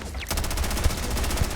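An automated turret in Starfield fires a fast, steady burst of evenly spaced shots, loud and close, lasting over a second without pause.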